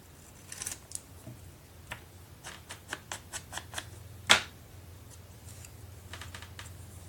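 Scissors snipping paper while making vintage paper clips, a faint series of short crisp cuts in an irregular rhythm, with one louder sharp snip near the middle.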